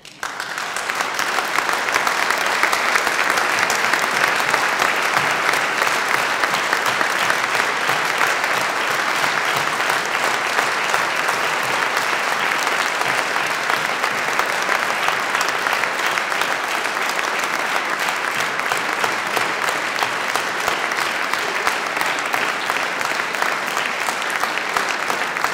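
Sustained, dense applause from an audience in Gödöllő greeting couples married fifty years at a city anniversary ceremony, steady and loud throughout with no pauses.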